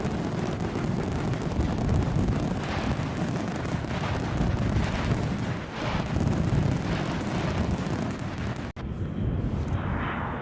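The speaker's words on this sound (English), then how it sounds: "Can I get the fireworks on?" Dense, continuous crackling and booming fireworks effect plays loudly and steadily for about nine seconds on a plane-spotting livestream in Edinburgh, with a brief cut near the end before the rumble resumes more quietly.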